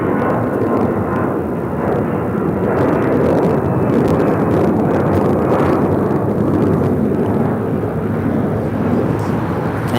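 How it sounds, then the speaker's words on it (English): An Avianca Airbus A320 taking off from LAX bound for San Salvador, its engines producing a loud, steady, broadband roar that holds for the whole stretch, close and dominant with no talking. "This is Avianca 523 taking off to San Salvador on an A320"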